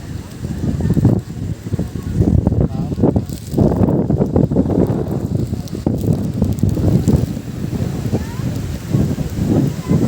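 Cool evening wind blows at Mypadu beach, a steady, loud rumbling gust on the microphone that runs through the whole stretch and swells and dips without a break.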